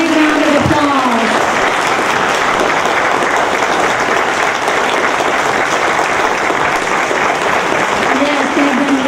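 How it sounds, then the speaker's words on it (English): Sustained audience applause for two candidates at a Georgia House District 144 candidate forum, dense and loud throughout, with a voice briefly speaking over the clapping near the start and end. "Let's give these two candidates a big round of applause."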